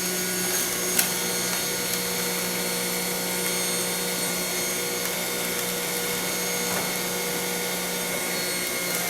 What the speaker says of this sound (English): As fast as I can put them into the machine is as fast as the Omega Big Mouth Juicer will juice up them